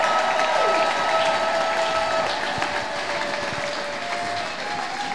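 A church congregation applauding and acclaiming the Lord, dense sustained clapping from a large crowd with cheering voices mixed in, loud and continuous throughout.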